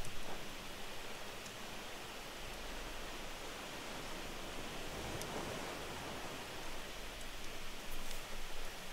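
Steady rain pours in the survival game Raft, a dense even hiss running unbroken throughout, with faint low rumbles beneath and no talking.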